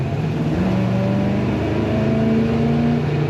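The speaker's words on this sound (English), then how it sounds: "The kickdown worked good on the automatic transmission, and that's when you feel the power." A 1971 Chevrolet C10 pickup's V8 pulls hard on an automatic transmission kickdown, heard from the cabin as a steady, rising engine drone with road noise and no speech.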